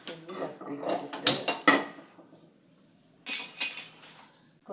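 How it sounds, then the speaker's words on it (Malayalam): Clattering of metal cookware as a pot is set down on a stove while preparing uzhunnu vada, with several sharp clanks and scrapes in two bursts and quiet gaps between. "നമ്മൾ പാത്രം വെച്ച് തീ കൊടുക്കാം."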